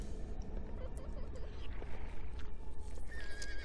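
A horse neighs and whinnies in the PC role-playing game Sacred, near a horse seller, over a busy, steady game soundscape of background noise and a faint high electronic tone near the end.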